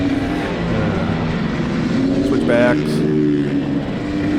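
A race car accelerates along an autocross course past spectators, its engine a loud, steady, close roar throughout as someone speaks over it.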